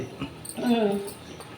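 A dog gives a brief, high whimper close by in a farm field, a short whining cry over faint background noise.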